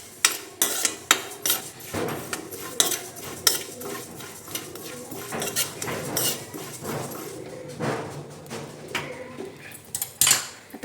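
Cumin seeds dry roasting in a pan over a low flame, with steady scraping and stirring against the metal and clinks of a utensil running throughout, moderately close and without speech.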